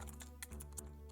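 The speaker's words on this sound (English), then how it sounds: "I'm currently typing out last week's one" Steady run of computer keyboard typing, quick irregular key clicks close to the mic over a low constant background hum, with no voices.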